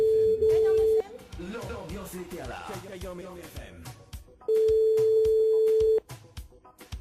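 An outgoing phone call rings twice, each steady electronic tone lasting about a second, with a radio host talking over the gap between the rings.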